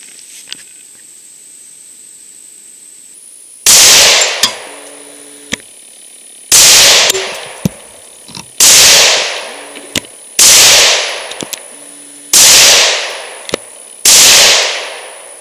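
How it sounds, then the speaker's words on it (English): A Coonan .357 Magnum pistol fires seven loud, sharp reports roughly every one to two seconds, each shot ringing out with a brief echoing tail, heard up close at an outdoor range with no voices. "I have the Coonan chambered in .357 Magnum in my hands, and I have a full magazine of 7 rounds"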